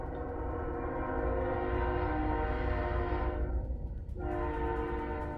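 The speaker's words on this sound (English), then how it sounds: "There's a train coming by my house." A train passes close by a house, its horn blaring loud and sustained with a low rumble beneath, cutting off briefly before sounding again.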